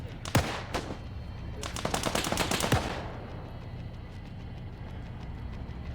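Gunfire in a military video game: a few sharp single shots, then a dense, loud automatic burst lasting about a second, followed by a quieter stretch of background battlefield ambience.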